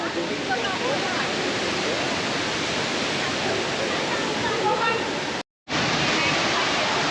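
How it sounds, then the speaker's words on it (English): The world's largest indoor waterfall, in Singapore, roars with a steady, dense rush of falling water, loud and continuous, with a brief dropout near the end. "it's the world's largest indoor waterfall"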